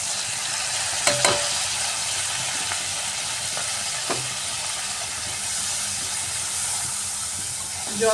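Dry spices sautéing with a splash of water in a pan for a vegetarian kohlrabi and potato dish, a steady broadband sizzle and hiss with a few sharp utensil clinks and scrapes near the start and middle.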